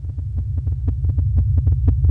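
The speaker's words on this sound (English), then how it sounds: "That thumpity-dumpity sound you're listening to is the sound of a pulsating red giant." Sonified pulsations of a pulsating red giant star come through as a loud, steady low hum beneath regular soft thumps, about six per second, like a rapid heartbeat throbbing on without a break.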